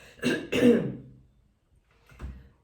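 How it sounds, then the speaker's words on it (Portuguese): A person clears their throat with two quick rough bursts, close to the microphone, followed after a pause by a third, softer grunt-like clearing. "Desde o início da leitura que eu tô sentindo esse pigarro"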